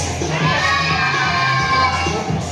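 A crowd of children at a store event shouts a loud, sustained greeting in unison, a bright chorus of young voices with slight swells, filling the room.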